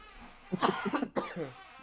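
A single burst of coughing, fairly close, a few rough hacking pulses in quick succession before trailing off.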